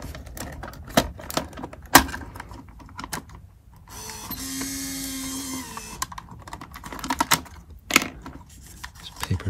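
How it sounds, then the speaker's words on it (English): Paper feeding through a Seiko UC-2000 watch controller printer: scattered close mechanical clicks and taps, with a steadier whirring motor feed lasting about a second and a half midway, then more clicks. "Paper's a pain in the butt to feed through when it's already going."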